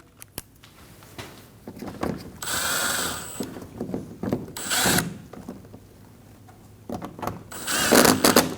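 Screws being driven up through the bumper of a Volkswagen Passat with a ratchet, heard as bursts of rapid clicking separated by brief pauses, close and moderately loud.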